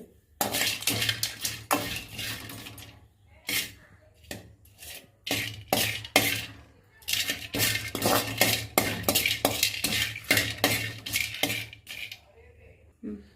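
Whole spices being dry-roasted and stirred in a pan for biryani masala, bursts of clinking, rattling scrapes of utensil against metal in an uneven rhythm with short pauses between.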